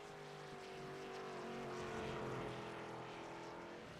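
A race car at Road America rises in a steady, moderately distant engine drone as it runs down the long front stretch, then fades slightly.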